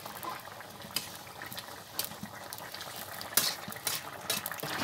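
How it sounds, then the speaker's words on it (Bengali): A bean, tomato and fish curry bubbles at a full boil in a pot, a soft continuous simmering texture with scattered pops and a few sharper clicks, close by and fairly quiet. "দেখেন বন্ধুরা, তরকারিটা কিন্তু আমার ভালো করে একদম বলক চলে এসেছে, একদম আঠা আঠা হয়ে গেছে।"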